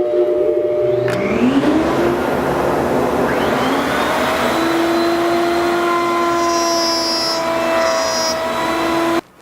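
A wood router fitted with a dovetail bit cutting a half-inch-deep groove in a table rail: a loud sustained high whine that shifts pitch as the bit bites into the wood, then cuts off abruptly at the end.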